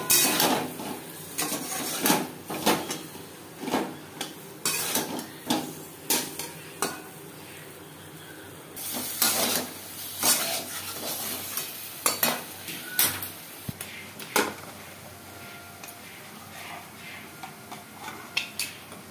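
Potatoes fry in a pan with turmeric and salt for a mutton curry. A spoon scrapes and clanks against the metal in repeated bursts of stirring over a soft, constant sizzle, with no talking.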